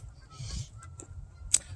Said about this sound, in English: Y'all hear the geese flying by?